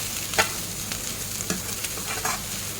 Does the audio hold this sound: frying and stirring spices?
yes